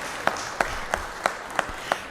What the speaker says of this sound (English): So again, I think one more round of applause.